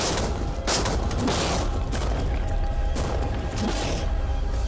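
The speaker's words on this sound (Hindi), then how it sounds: "टैंक्स की रैपिड फायर से मजा आ रहा है।" Animated tanks fire rapid shots in a dense, continuous barrage of loud booms and cracking bursts that run for several seconds with no pauses and no voices.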